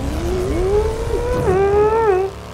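Mini motorbike engine in the video game Dead Rising 3, a loud, strained whine that rises and bends in pitch as the little bike labours along, alone with no voices.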